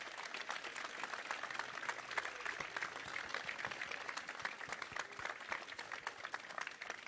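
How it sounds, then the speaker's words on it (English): Audience applause at the 2017 European tram driver championship in Tenerife, hosted by Metro Tenerife: steady, dense clapping from a large crowd, sustained and even throughout with no speech over it. "A big applause to Metro Tenerife."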